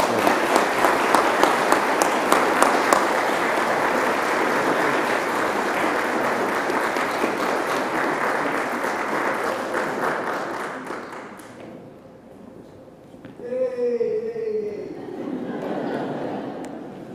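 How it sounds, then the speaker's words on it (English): A church congregation applauds at a Sunday service, a full round of clapping that holds steady and then tapers off, after which a voice is heard speaking. "let's give them a round of applause"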